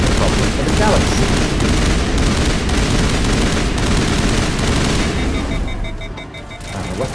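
Sustained weapon fire in the Mass Effect video game, a loud, dense barrage of rapid shots and booms filling several seconds before briefly thinning out near the end.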